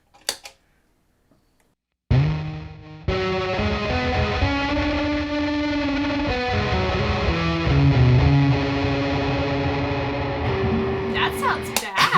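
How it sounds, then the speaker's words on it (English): After a moment of quiet, a guitar through a fuzz pedal placed after reverb rings out in sustained notes, its reverb smeared and gritty. "it's distorting the reverb effect"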